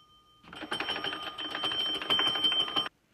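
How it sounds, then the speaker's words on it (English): A bell rings continuously in a rapid, rattling electric buzz for about two and a half seconds, then stops abruptly. "Why does this door have a bell?"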